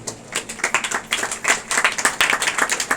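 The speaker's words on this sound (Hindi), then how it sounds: "एक बार और जोरदार तालियां।" Congregation applause during a Sunday church service, a brisk, fairly close patter of many hands clapping with uneven bursts throughout, no talking over it.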